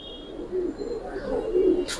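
Giribaz pigeons, including silver, Pankhi and Sabchila types, coo in low, rolling bursts at moderate distance, with a brief sharp noise near the end.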